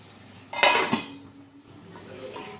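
A utensil stirs a garlic and chili fish fry in a pan on low flame, giving a couple of sharp metallic scrapes and clinks close by, then a soft sizzle.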